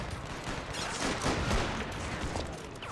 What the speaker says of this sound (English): all the artillery fire and so on is going on at this position